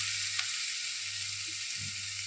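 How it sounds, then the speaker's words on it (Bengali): Onions sizzling steadily in a pan as a Bengali kosha mangsho is prepared, a soft, even frying hiss running throughout with faint occasional stirs. "পেঁয়াজটা প্রায় হয়ে এসছে, মানে জলটা টেনে যাচ্ছে, একটু রঙও এসেছে।"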